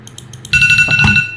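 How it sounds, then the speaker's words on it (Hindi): Electronic timer alarm ringing during a coding tutorial, a few soft beeps followed by a loud, steady high-pitched ringing tone that continues to the end. "हर बार ये टाइमर बच जाता है यार"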